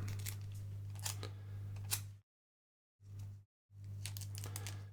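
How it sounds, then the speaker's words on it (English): Scissors cut regular sellotape roughly, in close, crisp snips and crinkles over a steady hum, broken by two brief silent gaps. "I'm going to get some regular sellotape, and I'm going to cut it quite roughly first"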